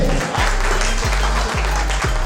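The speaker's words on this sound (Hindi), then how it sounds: "जोरदार ताली" Applause from an audience at a wellness achievers' event near Jim Corbett, a steady broadband clatter lasting the full stretch over a loud, pulsing low musical backing.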